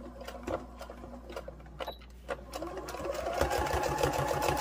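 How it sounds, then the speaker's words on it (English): A sewing machine stitches stuffed moose fabric, its steady mechanical whir running close and continuous with rhythmic needle clatter and no talking. "So now I'm just going to sew about 1/4 inch to make this a little bit smaller."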